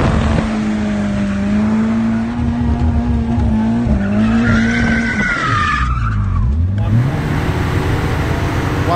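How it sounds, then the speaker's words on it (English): A car drifting at a Powercruise event in Perth, engine holding a steady high drone as the tires squeal and skid, then the revs dip and swing as it spins out, loud and close. "It put in footage of my car drifting here"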